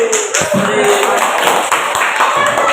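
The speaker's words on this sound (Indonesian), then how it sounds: "Tepuk tangan." Students clap for a group presentation in a classroom at SMK N 9 Medan: loud, close, busy hand clapping with voices calling out over it for a few seconds.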